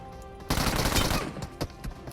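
A sudden burst of rapid automatic gunfire erupts in a first-person battle royale video game, a dense volley followed by a few scattered, fading shots.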